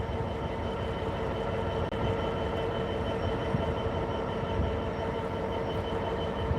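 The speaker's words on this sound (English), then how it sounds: "Might have something to do with the LNER service now pulling up on the left." An LNER passenger train pulling into Peterborough station, a continuous loud rumble and drone of the moving train that stays steady throughout, with no talk over it.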